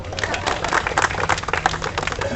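A small audience claps in uneven bursts, the scattered handclaps rising and falling irregularly over a couple of seconds, with a faint voice underneath.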